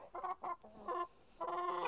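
Hens and a rooster in a garden cluck in short, near bursts, a few quick clucks followed by a longer run of throaty calls, fairly quiet and with no voices over them.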